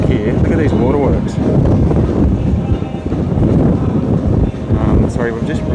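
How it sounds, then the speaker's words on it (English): Strong wind buffets the microphone on the open deck of the Royal Caribbean cruise ship Wonder of the Seas, a loud continuous roar and rumble with gusty surges, heard close throughout while a person talks over it. "Sorry, we've just really walked into some massive wind."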